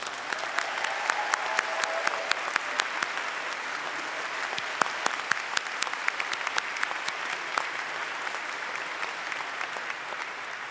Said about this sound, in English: Please give Randall a round of applause.